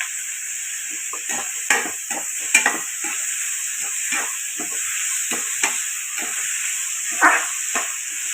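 Vegetables sauté with a little salt in a hot pan, giving a steady close sizzle broken by repeated irregular scrapes and taps of a stirring spoon.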